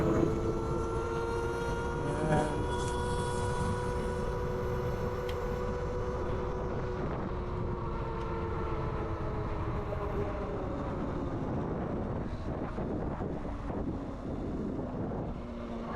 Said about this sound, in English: You can't hear me over the road probably.